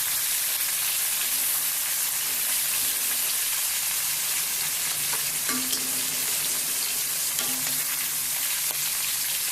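Hilsa fish frying in oil, a loud, dense, steady sizzle and crackle that carries on throughout with no talking.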